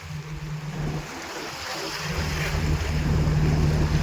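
Strong wind buffets the microphone by the sea, with surf rushing underneath and a low steady hum throughout.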